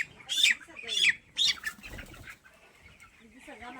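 Twenty-day-old poultry chickens clucking in a farm shed, several bursts of close clucking in the first half, then fading into quieter background murmurs.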